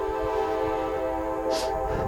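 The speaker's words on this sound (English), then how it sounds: "Here comes the second train." A train passing near Glen Jean, West Virginia, producing a sustained, steady tonal drone close by, with a brief brighter hiss swelling in partway through.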